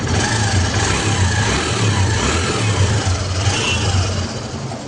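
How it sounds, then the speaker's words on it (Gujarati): A Honda Dream Neo 110cc motorcycle engine runs steadily, its low mid-range drone holding constant throughout with a faint rise and fall, close and fairly loud with no talk over it. "તો મિત્રો ગાડી આપણી કમ્પ્લીટ ચાલુ થઈ ગઈ છે."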